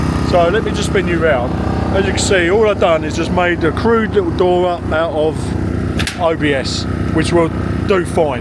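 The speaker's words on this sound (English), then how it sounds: "have to excuse the noise of the generator running because I've got some lights going on in there" A generator running outside a shed to power its lights, with a steady mechanical drone underneath, heard beneath someone talking close up throughout.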